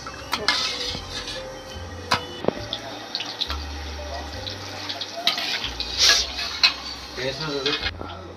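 Mustard seeds and cumin sizzle and crackle in hot oil, mixed with clattering of a utensil against the pan and scattered sharp pops. A voice talks intermittently over the cooking.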